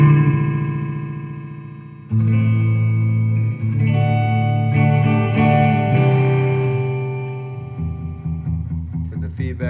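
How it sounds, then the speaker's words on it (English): Electro Harmonix Echo digital delay pedal set to high feedback on an electric guitar, sustained chords and notes trailing into dense, loud repeating echoes that build and smear together throughout, with no talking. "now you can turn the delay time up, but turn the feedback up, and you get kind of this different type of echo"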